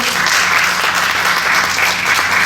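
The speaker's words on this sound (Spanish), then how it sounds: "vamos a recibirlo con un fuerte aplauso" An audience at a sociocultural centre lecture gives a warm welcoming round of applause, dense continuous clapping filling the room from start to finish.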